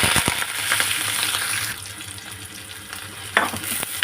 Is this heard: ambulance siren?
no